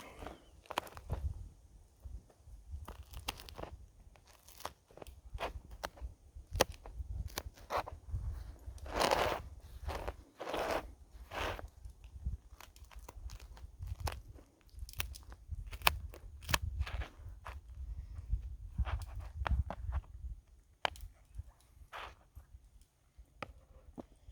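Close, crisp crunching and chewing of campfire pizza cooked in a mess tin repeats in an irregular rhythm for a long stretch, with no talking.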